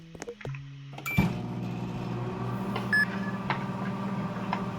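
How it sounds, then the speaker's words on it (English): Microwave oven running in an animal hospital video game, a steady low electric hum that starts after a few short beeps and clicks, with faint chimes and small clicks over the drone. "I want a faster microwave"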